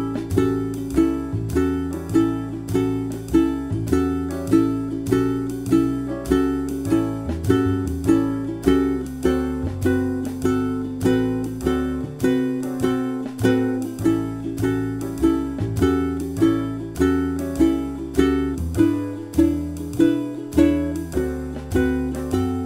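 Ukulele picks out a 12-bar blues riff over a backing track, steady rhythmic plucked notes with a regular beat throughout, clear and close with no talking.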